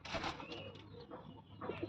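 Pigeon held close at hand, giving soft, low, throaty coos in a short run of murmuring pulses, fairly quiet and close.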